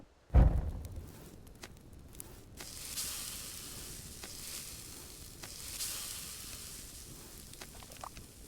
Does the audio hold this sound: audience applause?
no